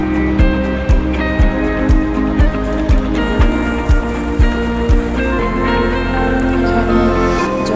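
Passenger launch at Sadarghat river terminal bound for Chandpur, with a steady low engine drone and regular rhythmic thumps for several seconds, then continuous rumble and ambient harbour noise; no speech.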